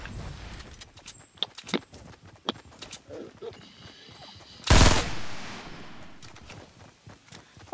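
Burst rifle gunfire in the Fortnite video game: short clusters of sharp shots scattered through the scene, with one loud, dense blast near the middle and lighter clicks and footstep-like taps around it.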